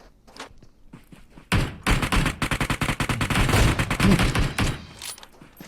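Rapid gunfire bursts from PUBG Mobile tournament play. After a quiet start with faint thuds, dense automatic volleys crack in quick succession, loud and close, then fade into a few scattered shots.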